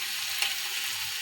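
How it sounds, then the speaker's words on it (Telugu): Chili powder sizzles in hot oil for a Telugu-style potato fry, a steady, even hiss throughout with one brief sharper crackle near the middle. "కొంచెం కారం పచ్చికొంపు పోయేదాకా కొద్దిగా అలా నూనెలో మగ్గనిచ్చి"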